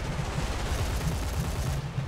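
Turret gunners on an IL-28 jet bomber fire in War Thunder, a dense, steady rattle of rapid shots sustained throughout, with a brief dip near the end.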